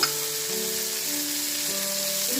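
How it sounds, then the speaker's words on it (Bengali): Papaya bhaji fries in hot oil in a pan, giving a steady, close sizzle with a constant crackling hiss throughout. "এটা খুব তেল হলো এরপর আস্তে করে ভাজিটা দিয়ে দিব"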